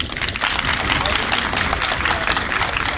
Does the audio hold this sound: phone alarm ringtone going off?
no